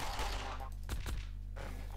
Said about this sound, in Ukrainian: Я теж вмію стріляти.